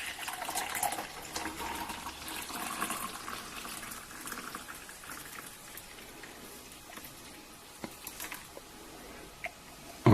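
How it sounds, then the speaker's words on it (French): Liquid pours and trickles into a glass, a steady close splashing stream that thins toward the end. "versez-la dans un grand verre."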